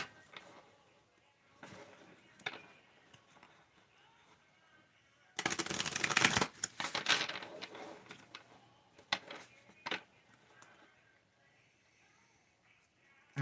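Quiet handling clicks and taps, then a burst of crisp riffling as cards are shuffled, followed by scattered light card snaps and taps.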